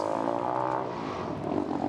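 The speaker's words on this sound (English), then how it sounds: "Yeah, we have an unsilenced car." Unsilenced Formula Student race car engine, a loud continuous buzzing drone with dense harmonics, steady throughout without pauses.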